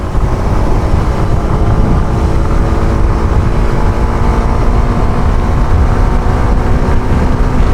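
Strong wind roaring constantly past a motorbike ridden at over 100 on an expressway, a loud, dense buffeting rush with the engine buried beneath it and no pauses.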